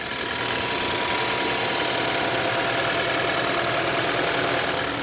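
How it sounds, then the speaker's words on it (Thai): A 2016 BMW X5 xDrive 40e M-Sport idles steadily, a smooth, even engine hum held at constant loudness and close to the microphone, with no talking over it. "เดี๋ยวผมให้ฟังเสียงเครื่องนะครับ"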